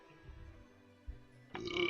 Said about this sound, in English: Apparently I have a burp per episode now.